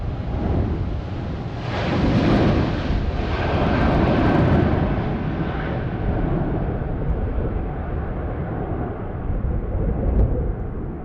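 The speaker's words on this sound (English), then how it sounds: "The crew smoothly advanced thrust levers to toga, confirmed positive climb, and pitched to 15 degrees" A Boeing 777-300ER's engines roar at go-around thrust as the jet climbs away from short final at Heathrow, a broad steady rumble that swells and holds, with buffeting wind noise throughout.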